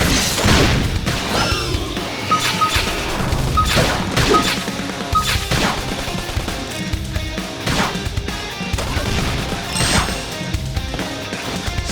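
Xenoblade Chronicles X combat rings out as a busy stretch of rapid gunfire, metallic impacts and crashing hits, with short bright synthetic chimes and a layer of game music and effects underneath.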